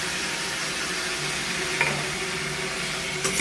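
Ginger garlic paste hits tomatoes frying in a pan for dhaba-style karahi chicken, producing a steady loud sizzle with faint stirring scrapes and a couple of brief clinks.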